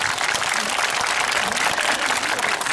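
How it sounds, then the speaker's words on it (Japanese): Crowd applause at an outdoor historical festival procession event at Matsushiro Castle ruins; loud, dense, continuous clapping close to the mic for the whole stretch. "まずは拍手をお願いいたします。"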